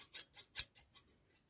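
Tailor's scissors being handled, a series of quiet, dry metallic clicks and snips in an irregular rhythm, close and faint, with no voices.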